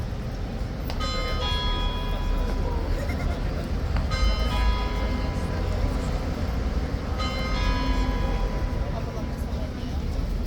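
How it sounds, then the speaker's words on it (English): A church bell rings out over a crowded square during the King's Guard change at Horse Guards, three clear ringing strikes spaced a few seconds apart, loud over constant crowd noise and chatter. "There it is, there's the bell."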